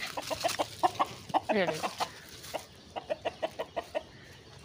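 A hen clucks in quick, rhythmic bursts close by, with one longer squawk partway through, while a voice speaks briefly over it.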